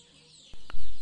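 KUB-2 village chickens give a brief burst of clucking during vaccination. A couple of short, close calls come in the last half-second.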